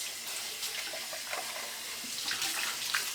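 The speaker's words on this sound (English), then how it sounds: "So you can see I'm rinsing it" Tap water runs steadily into a sink while makeup brushes are rinsed under it, a continuous close splashing hiss with no talking.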